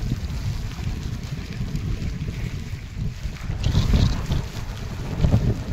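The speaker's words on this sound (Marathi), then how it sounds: "समुद्राच्या लाटा येतात तशा ह्या लाटा आहेत." Waves lapping on a wide dam reservoir under a darkening, windy sky, a steady rough wash of water mixed with heavy wind buffeting close to the microphone, continuous throughout with no talk.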